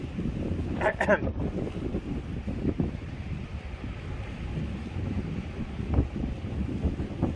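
Strong crosswind gusting across a fishing pier by the sea, a steady rough buffeting roar with low rumble throughout, a brief burst of louder disturbance near the start.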